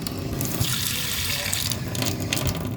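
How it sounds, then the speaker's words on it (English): Tap water runs steadily into a stainless steel kitchen or laundry sink with the waste sealed, a loud close continuous splashing gush with faint talk underneath. "we're just going to put enough water in there to sit in the base of the unit"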